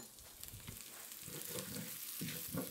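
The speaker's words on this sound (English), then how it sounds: "I'm going to melt in a little bit of butter" Butter melts in a pan for a creamy chicken stew and gives off a soft, steady sizzle and crackle with faint stirring sounds, quiet and close.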